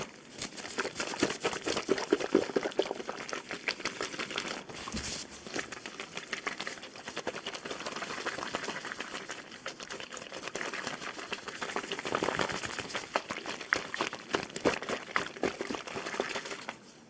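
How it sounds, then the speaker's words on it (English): Water poured and dribbled close to a microphone in an ASMR roleplay, a dense, continuous patter of trickling and splashing that swells and eases over time with no talking. "We'll do some water sounds."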